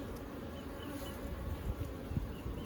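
Honey bees buzz steadily around an open beehive during an AFB inspection, a dense continuous hum with individual bees droning past, moderately close and fairly faint, with no talking over it.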